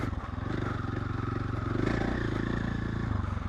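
A KTM 1290 motorcycle rides single-track trail, its engine pulsing loudly and close with rough, uneven throttle and some clatter over the short stretch, no talk.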